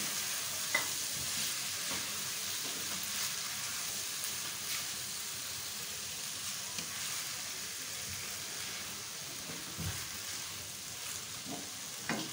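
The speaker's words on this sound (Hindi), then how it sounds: "सब्जियां हमारी सौते हो गई हैं, साथ ही नूडल्स डाल दें। थोड़ा सा मिक्स करें।" Noodles get stirred and tossed with sautéed vegetables in a pan for a chicken vegetable noodle dish, giving a soft continuous sizzle with light scraping and occasional ticks, fairly quiet and with no talking.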